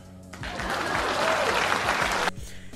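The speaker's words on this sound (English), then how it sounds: "Please clap." Audience applause after a call to clap during a comedic Star Wars canon rant, a dense burst of many hands starting abruptly, sustained loud for about two seconds, then cutting off sharply.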